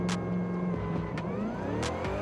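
An Audi RS 3 in Forza Horizon 5 launches hard, its engine revving up in a steady rising drone through gear changes, loud and close, with a few short bursts along the way.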